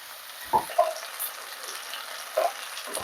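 Spices fry in a pan over lowered gas beside previously fried potatoes, giving a quiet steady sizzle broken by a few soft clinks and stirring knocks.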